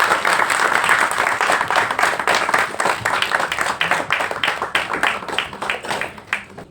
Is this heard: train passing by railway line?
no